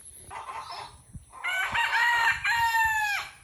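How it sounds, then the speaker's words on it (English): A rooster crows loudly and close by, a long strained cock-a-doodle-doo with a second drawn-out call, after some softer clucking. "did you hear our new rooster?"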